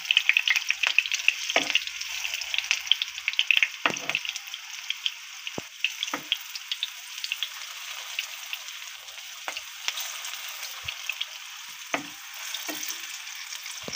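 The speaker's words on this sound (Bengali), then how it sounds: "আমি সবগুলো ভেজে নেব।" Green banana koftas fry in oil with a steady bright crackling sizzle, close by, broken now and then by spoon scrapes and soft knocks against the pan. No one speaks.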